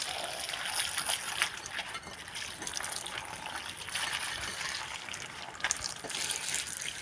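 Water runs and splashes unevenly while a leaf is washed, like a stream poured over it, with small bursts and trickles throughout.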